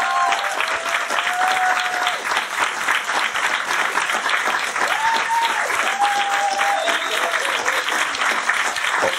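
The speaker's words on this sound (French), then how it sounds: "Bravo, applaudissez-vous" An audience at a podcast's second-anniversary live gathering breaks into steady, loud applause, a dense wash of many hands clapping that holds evenly throughout, with a few voices calling out over it.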